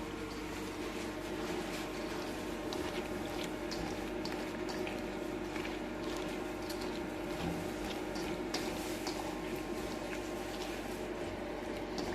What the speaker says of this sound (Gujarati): કુકરમાં આપણે બાફવા મૂકી દઈશું.